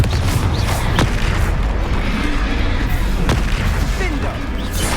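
A Confringo blasting spell explodes in Hogwarts Legacy during a fight. The loud, dense roar of battle holds a couple of sharp bursts that punch through.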